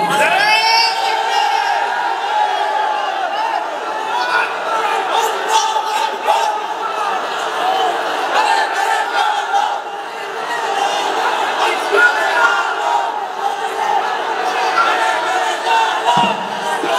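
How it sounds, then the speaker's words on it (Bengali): A large crowd at a religious gathering on a college field in Sylhet chants slogans in loud, continuous rising and falling shouts that carry on steadily across the open ground. "Okay, slogan is on."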